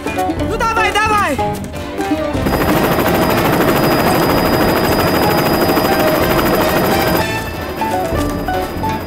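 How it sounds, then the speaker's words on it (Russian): A helicopter landing in a vegetable garden roars loud and steady with a dense whirring rotor chatter that swells in after a couple of seconds and dominates, with voices calling out before and over it. "Бабуль, на огороде вертолет, давай скорей!"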